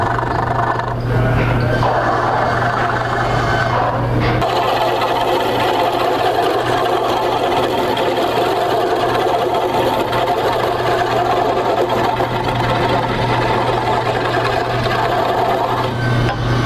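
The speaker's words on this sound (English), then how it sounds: "Use the big gouge to take out more material." A wood lathe turns a porch post at a stair workshop while a gouge cuts, producing a steady loud motor hum with continuous rough scraping and tearing, close and unbroken throughout.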